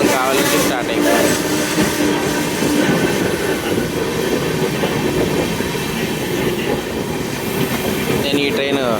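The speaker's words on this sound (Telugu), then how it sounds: "ప్లాట్ఫామ్ 4లో గూడూరు నుంచి విజయవాడకి వెళ్ళే Vikrama Simhapuri Amaravati super fast express వస్తుంది." Vikramasimhapuri Amaravati superfast express, running from Gudur to Vijayawada, arriving at platform 4 with a loud continuous rumble, rhythmic wheel clatter and some squeal, close by, with voices underneath.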